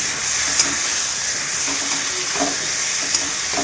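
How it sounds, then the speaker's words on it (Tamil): Eggplant sautéing in a pan with onion and tomato for a Tamil Nadu style sambar kara kuzhambu, a steady close sizzle with light stirring scrapes, no one talking. "கத்திரிக்காய் நல்லா வதங்கட்டும்."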